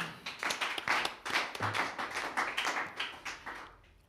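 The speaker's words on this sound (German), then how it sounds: "einen ganz, ganz herzlichen Applaus an Alena Trauschel, Patrick Wilczek, Patrick Mahlke und Christian Jung" A small audience at a political candidates' event applauds in a brief burst of dense, pulsing hand claps that fades out toward the end.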